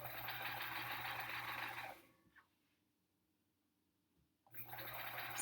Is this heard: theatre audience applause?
no